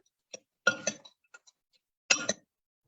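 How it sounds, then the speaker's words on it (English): Dry salad ingredients are stirred in a bowl, giving a few short, light clinks and rattles in two quick clusters separated by silence. "And now we'll give these dry ingredients a quick stir."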